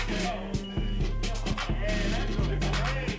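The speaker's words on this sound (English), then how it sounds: "A heart with AFib, on the other hand, is better represented by a beat that sounds like this." Fast, irregular, chaotic beat standing in for an AFib heart rhythm, with uneven thumps over a dense musical bed of sustained low tones and bright high texture, loud and continuous throughout.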